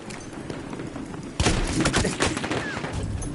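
Gunfire in the video game Battlefield 1 breaks out suddenly after a quieter stretch, a rapid volley of close, loud shots and thuds carrying on to the end over a steady game background.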